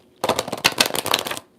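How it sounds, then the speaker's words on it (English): A tarot card deck is riffle shuffled, a quick close burst of crisp rapid flutters and clicks lasting about a second, loud and alone. "Let me do a little ruffle shuffle"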